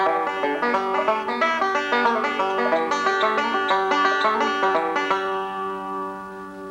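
Banjo picking the whole first line of a beginner's bluegrass solo, a dense run of bright, fast plucked notes at a steady rolling pace. It plays loud and close with no talking and ends on a ringing chord that slowly decays.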